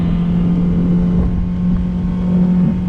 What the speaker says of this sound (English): We'll go ahead and open it up.